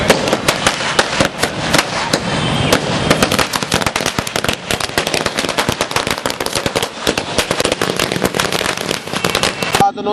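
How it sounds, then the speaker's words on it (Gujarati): A dense, continuous volley of firecrackers bursts loudly and rapidly at a celebration of a court verdict in Vadodara, overlapping cracks and pops filling the whole stretch. "લાખાવાલાએ કાઉન્સિલરો કાર્યક્રમની ઉપસ્થિતિમાં ફટાકડા ફોડી કોર્ટના ચુકાદાને આવકાર્યો હતો।"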